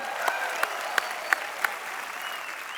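A studio audience on The Kapil Sharma Show applauds in a steady wash of clapping, with a few sharper claps standing out.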